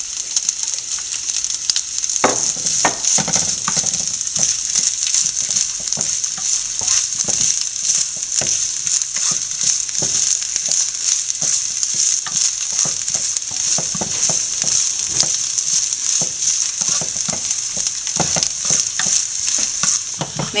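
Grated coconut fries in ghee, sizzling steadily across the whole stretch, and a spoon stirs through it in repeated scraping strokes close by.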